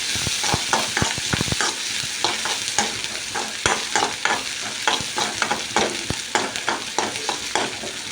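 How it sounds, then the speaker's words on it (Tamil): Beans and chopped onion fry in hot oil while a spoon stirs them, scraping and clacking against the pan in quick irregular strokes over a constant loud sizzle. "இந்த மாதிரி நல்லா கிளறி கொடுத்துருக்குங்க."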